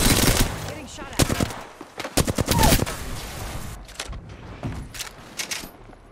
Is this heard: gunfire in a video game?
yes